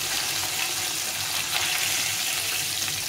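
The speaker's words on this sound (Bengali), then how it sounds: "মাছটা এখন উঠিয়ে নেবো, এটা হয়ে গেছে। একটু বললাম না, একটু নেড়ে চেড়ে উঠিয়ে নেব, বেশি ভাজবো না।" Hilsa fish frying in a pan, a steady close broadband sizzle that holds evenly throughout, with faint scraping as the pieces are turned and no voices.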